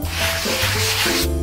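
Sandpaper rubbing over dried filler paste on a wall, a steady, close scratchy scraping that runs continuously with slight changes in stroke.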